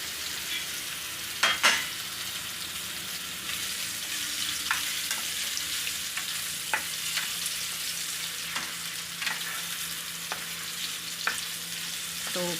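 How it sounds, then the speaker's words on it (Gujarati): Raw mango pieces fry in oil with bay leaf, cinnamon, cloves, asafoetida and turmeric, giving a continuous close sizzle with scattered sharp clicks of a spoon stirring the pan. "હવે આપણે આને તેલમાં સડવા દેવાની છે"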